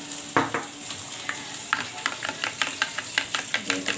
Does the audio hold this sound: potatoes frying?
yes